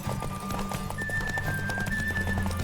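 Roach the horse trotting in The Witcher III, a steady clip-clop of hooves with occasional whinnying over a continuous game soundtrack, close and loud throughout.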